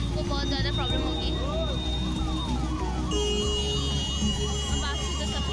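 An ambulance siren wails continuously in a jammed road near Prayagraj, its rising-and-falling tone looping steadily over dense traffic noise, with a second siren pattern joining partway through and people talking underneath.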